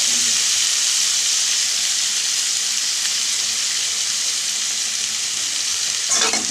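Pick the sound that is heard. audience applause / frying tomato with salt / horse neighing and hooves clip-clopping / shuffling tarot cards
frying tomato with salt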